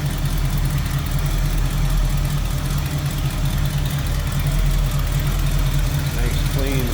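A 1967 Pontiac Firebird convertible's 326 V8 idling with a steady, rumbling low throb, close and continuous, while someone speaks over it.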